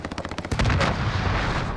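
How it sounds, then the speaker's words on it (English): A cruise missile strike in Call of Duty: Modern Warfare, a rapid series of sharp gunfire-like cracks followed by a heavy booming impact that rumbles on briefly. "Allied cruise missile away."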